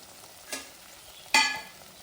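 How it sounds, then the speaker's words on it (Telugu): Masala paste with ginger and garlic frying in a pan gives two short sizzling bursts as it is stirred, the second louder, over a quiet background with no speech. "ఇప్పుడు ఈ పేస్ట్ మాత్రం బాగా వేగాలి"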